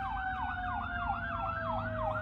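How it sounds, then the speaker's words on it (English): A fire engine siren from the Westlake Fire Department wails in a steady rising and falling cycle, loud and continuous, as the truck passes near along a street. "We've got an ambulance. Or fire. Let's see. Yep, it's fire."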